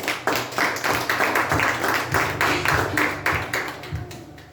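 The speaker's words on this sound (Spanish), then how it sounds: "Denle un aplauso al Señor." A church congregation applauds together in dense, rhythmic clapping that stays loud and steady for the whole stretch before thinning out at the end.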